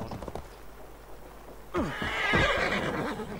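A horse in Assassin's Creed Valhalla lets out a loud, close whinny after a quiet opening, followed by a few snorts and hoof sounds.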